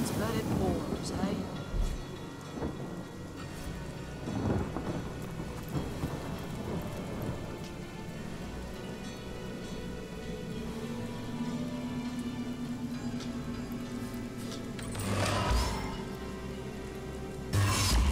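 Steady rain with rolling thunder in the video game Divinity: Original Sin, a continuous wash of downpour with low rumbles swelling near the start, middle and end, while someone talks intermittently over it.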